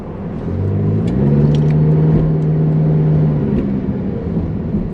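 A car on a quiet city street in historic Evansville, its engine rising to a rumbling pass and then fading steadily as it drives off, alone with no talk.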